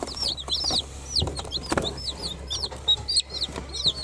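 Baby chicks chirp in repeated high, rising peeps scattered throughout, close and fairly loud, with a few soft rustles and handling bumps underneath; no talking.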